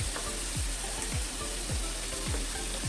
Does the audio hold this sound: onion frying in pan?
yes